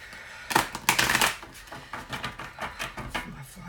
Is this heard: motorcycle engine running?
no